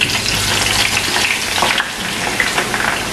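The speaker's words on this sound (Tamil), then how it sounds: "இப்போ நல்லா கொதிச்சுட்டு இந்த கத்திரிக்காய் பொரிச்செடுப்போம்." Eggplant pieces deep fry in oil over medium heat for wambatu moju, a loud, dense, continuous crackling bubble with faint stirring and no voices.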